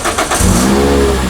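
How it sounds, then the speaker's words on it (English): Toyota Celica engine cranks briefly and catches, settling into a steady, close idle hum with no talking. "let's go turn the motor on"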